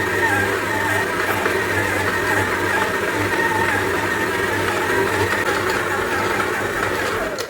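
Electric mixer kneading steamed bun dough for siopao, a loud, steady motor whir with a low rhythmic churn that runs unbroken throughout, with no talking.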